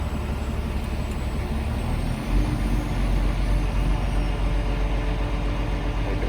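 A truck engine that has suffered oil starvation idles with a steady, deep, close rumble that swells slightly louder partway through as the revs are raised a little. No voices are heard.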